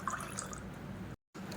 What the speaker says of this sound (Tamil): ஊற வச்சுருந்த தண்ணியை வடிச்சிட்டு அந்த தண்ணியை சேர்க்குறேன்.